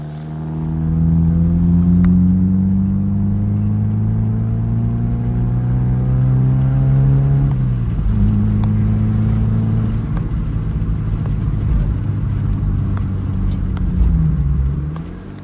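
A Mazda MX-5 fitted with a muffler delete pipe drones steadily from inside the cabin, its pitch climbing through the gears with a shift around midway, a deep exhaust rumble throughout.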